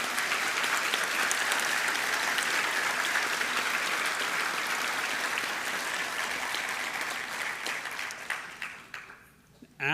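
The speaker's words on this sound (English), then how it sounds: "Can we have a round of applause for the audiovisual crew?" Audience applause at a university convocation ceremony, a loud, steady clapping crowd that holds for most of the stretch before thinning out and fading near the end.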